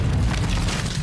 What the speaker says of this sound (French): 3, 2, 1, explosion.